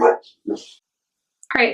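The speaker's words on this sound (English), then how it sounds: "I'm sorry about my dogs barking." Dogs bark in short separate bursts indoors, a couple of sharp woofs at the start and another close, loud bark near the end, with a voice speaking briefly.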